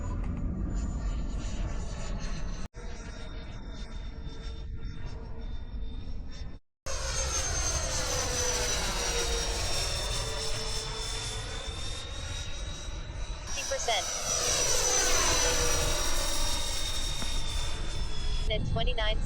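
An RC F-14 Tomcat model jet with an 80mm ducted fan flies overhead at an airfield, its high turbine whine loud and steady, sweeping up and down in pitch as it passes, with a brief cut partway through and people talking over it.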